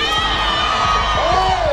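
Crowd cheering loudly at a women's sepak takraw match, a dense roar of voices with shouts and whoops and rhythmic clapping, sustained and close throughout.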